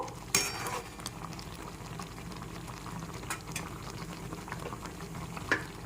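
Raw mango chutney bubbles gently in a pan over a low flame, a soft, quiet simmer with a couple of sharp little pops.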